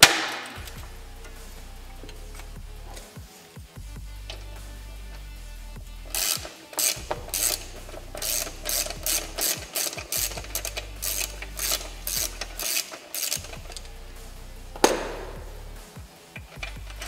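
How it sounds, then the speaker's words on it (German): Ratchet with a 13 mm socket turning a locknutted bolt at the rear turn signal of a Harley-Davidson Sportster: after a quiet start, a fast run of sharp, loud metallic clicks repeats for several seconds, then a single clack near the end. "Jetzt seht ihr, wie ich hinten eine 13er Nuss ansetze an der Mutter zum Gegenhalten"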